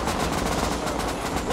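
Rapid automatic gunfire from the survival game Rust crackles in a dense, continuous volley of shots, loud and close, with no voices over it.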